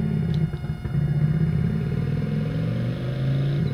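Quad bike engine in Tomb Raider III revving steadily, a droning mid-pitched motor tone that holds and shifts slightly in pitch over a few seconds, close and continuous with no talk.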